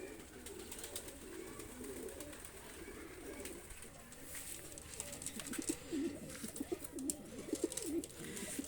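Golden pigeons coo in a series of low, throaty, rhythmic calls close by, with faint rustling and background noise.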